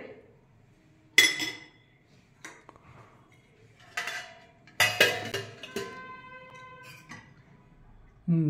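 Dal served into a bowl at a home lunch, with scattered clinks and clatters of metal dishes and a ringing ping, close by in a quiet room, a few sparse impacts spread apart.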